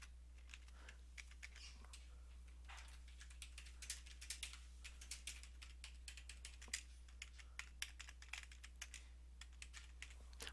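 Keys on a computer keyboard are typed in quick, uneven bursts of light clicks, soft and close, over a steady low electrical hum, with no talking.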